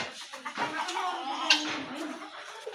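A pet chicken clucks steadily at close range on a home farm, the clucking mixed with other household noise and a brief louder squawk midway.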